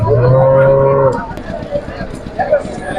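A cow lets out a loud, close, drawn-out moo lasting about a second, followed by murmuring voices and crowd noise at a cattle market in Kushtagi, Karnataka.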